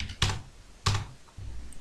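Keys on a computer keyboard being tapped while a project name is entered, three separate short bursts of keystrokes with quiet gaps between them, close and moderately loud, with no voices.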